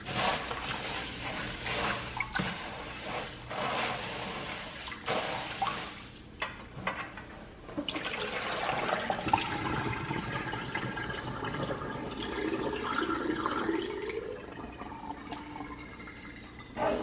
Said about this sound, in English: And then just rinse super hot water on it.